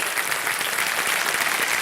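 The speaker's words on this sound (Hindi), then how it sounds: "मैं चाहता हूं देवियों सज्जनों कि सम्मान भरी तालियों के साथ स्वागत किया जाए" A television quiz show studio audience claps warmly to welcome a guest, a brief burst of dense, steady applause.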